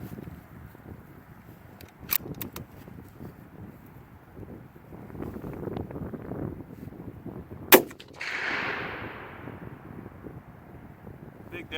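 Two rifle shots from a 6.5 Creedmoor fitted with a JP recoil eliminator muzzle brake at an outdoor range, a sharp crack near 2 seconds and a louder one near 8 seconds, the second trailing into a wind-blown rush.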